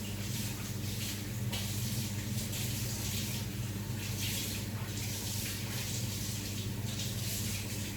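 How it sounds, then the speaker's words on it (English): Hands being washed under a running kitchen tap: a steady, continuous rush of water close by, with no pauses or talk. "Hands a good wash to get it all off."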